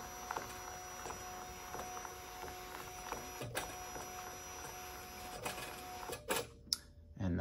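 Zebra ZT510 industrial printer calibrating media, a steady mechanical whir with faint tones and repeated small clicks and ticks, ending in a few sharper clunks as calibration finishes, close and moderately quiet with no talking.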